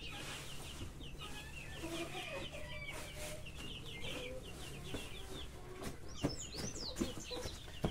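Sebright hens clucking steadily with high chirps from newly hatched Sebright chicks scattered throughout, a few sharp knocks near the end.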